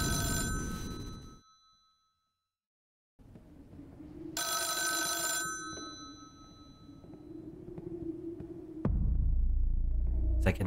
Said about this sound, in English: My troubled sleep is broken by the ringing of my phone.